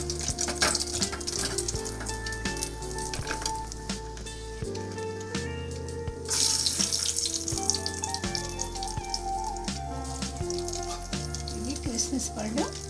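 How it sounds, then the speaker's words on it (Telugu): Cashew nuts fry in oil with a continuous soft sizzle and crackle, running underneath someone talking throughout, alongside low background music and occasional stirring clinks. "నెక్స్ట్ జీడిపప్పు కూడా వేయించేస్తున్నాను"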